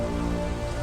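Steady, dense rain patters in a forest, a storm effect from an audio drama, filling the whole brief moment as a constant hiss with a faint tonal layer underneath.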